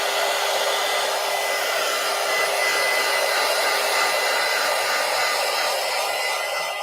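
A hair dryer blows steadily and loudly on art cards made from masterboard, a continuous close airy roar that holds for the whole stretch with no voices.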